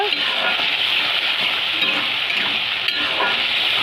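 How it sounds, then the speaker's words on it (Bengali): Spices and green peas fry in a pan, a loud, dense, continuous sizzle that holds steady throughout, close up with no talk. "ভাজা ভাজা করে কষিয়ে নিয়েছি"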